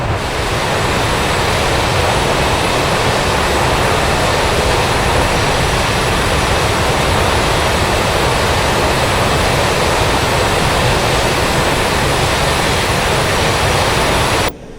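Simulated aircraft engine during taxi in Digital Combat Simulator, a loud, steady broadband roar and whine held constant throughout with no talking, cutting off abruptly at the very end.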